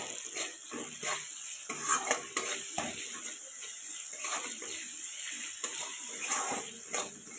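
Spoon stirring salt and ground turmeric around a pan of hot oil for a cauliflower and lentil dish, a steady soft sizzle broken by repeated scraping strokes and light clinks of utensil on metal, close and continuous without talk.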